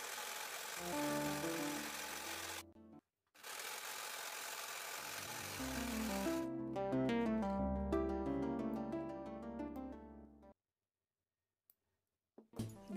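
Sewing machine running in steady bursts while stitching elastic onto stretched fabric, a continuous mechanical hum that stops briefly, restarts, then cuts off near the end; no talking.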